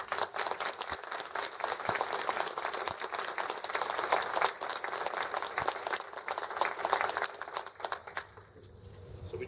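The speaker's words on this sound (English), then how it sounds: "one more round of applause" An audience at an awards gathering gives a long, steady round of applause, many hands clapping densely for several seconds before the sound thins and fades near the end.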